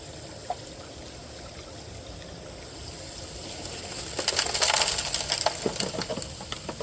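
Gravel tossed into a highbanker with running water while prospecting for gold in Melbourne, a rising rattling, trickling wash building midway and staying busy to the end, moderately close.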